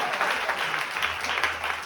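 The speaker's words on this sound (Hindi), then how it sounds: "ताली बजाना शुरू कर दीजिए आप" A church congregation claps along steadily during a Sunday service, a dense, continuous patter of many hands filling the whole stretch at an even level.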